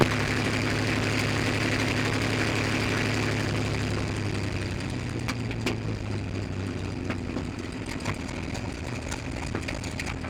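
A P-51 Mustang taking off, its piston engine giving a steady loud droning roar with low rumbling tones that drop slightly in pitch partway through, heard continuously without speech.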